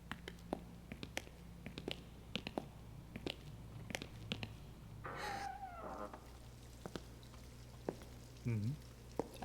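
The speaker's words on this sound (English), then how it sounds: "I hear water." Water trickling in a haunted school toilet in the horror game Death Mark 2: a soft, brief rushing wash rises midway through, surrounded by faint scattered clicks and a low steady hum.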